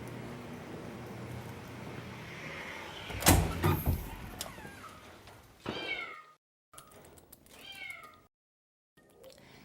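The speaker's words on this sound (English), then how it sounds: "This is where we house all of our stray and owner surrender cats." Cats meow repeatedly inside an animal shelter's cat building, rising, wavering calls near and clear over a steady room hum, with a door sliding open and shut partway through.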